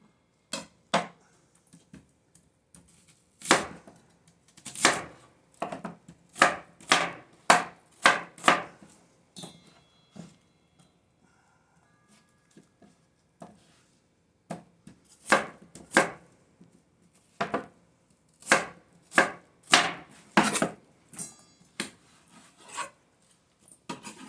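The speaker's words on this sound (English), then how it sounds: "cut it into cubes, which are probably about like that" Beef being cut into cubes with a knife on a cutting board for a pepper and tomato stir-fry: a long run of sharp, close chops in uneven bursts, with brief pauses between rounds and no voices.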